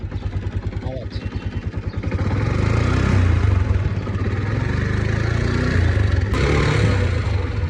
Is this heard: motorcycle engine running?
yes